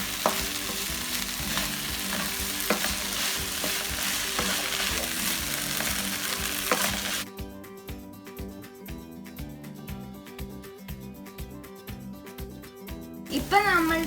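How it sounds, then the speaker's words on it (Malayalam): Onions sautéing in a pan for a duck egg roast, a dense steady sizzle with stirring scrapes, then quieter rhythmic stirring taps of the utensil against the pan, close and clear. "നമുക്കിത് വഴറ്റിയെടുക്കാം."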